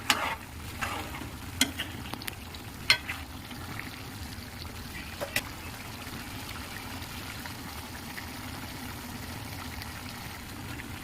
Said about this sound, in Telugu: ఇలా మూత తీసి ఒకసారి మధ్యలో గరిటతో కలిపి తిప్పుకోవాలి.